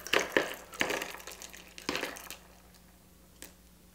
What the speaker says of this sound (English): So now we're going to pour it directly unstrained into our